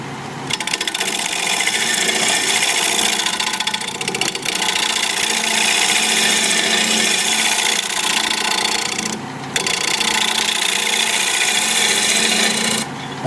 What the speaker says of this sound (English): I'm going to shear scrape a little bit.